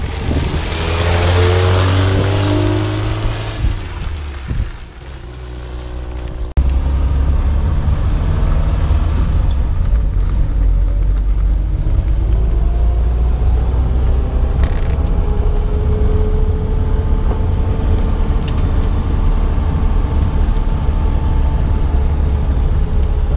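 A 1977 MG Midget drives along, its small engine droning and revving through shifts, with a loud wind-buffeted rumble, a brief lift-off dip, then a steady, close cruising hum carrying faint creaks and rattles.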